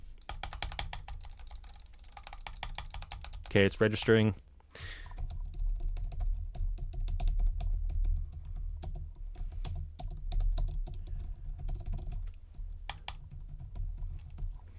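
Typing on a K688CT mechanical keyboard, with steady clicking and clacking keystrokes through most of the stretch, interrupted briefly by a person speaking.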